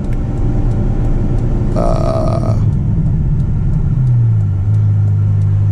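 A Ferrari F12's V12 engine drones in manual mode while driving, a loud, steady low rumble with a brief higher whine in the middle and a shift in pitch near the end.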